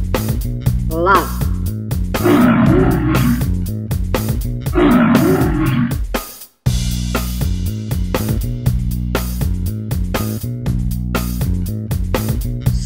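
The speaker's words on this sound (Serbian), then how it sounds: "Lav." A lion roars twice, loud and close, over a steady upbeat music track, then the music carries on alone after a brief dropout.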